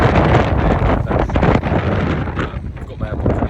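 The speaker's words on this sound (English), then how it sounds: "it is actually very windy" Strong wind in Budapest buffets the microphone in loud, continuous gusts and roars.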